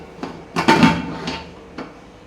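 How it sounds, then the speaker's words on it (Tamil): A lid set onto a cooking pot of rice upma makes a cluster of close clattering knocks, followed by a couple of lighter taps as it settles. "சும்மா தான் போட்டு மூடி வைக்கிறேன்."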